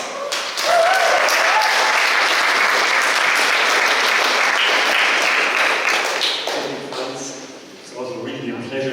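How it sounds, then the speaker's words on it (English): Warm audience applause for a speaker about to give a talk, a dense, steady wash of clapping that holds loud for most of the clip, thins near the end, and gives way to a voice starting to speak. "So, warm applause for Max for his talk."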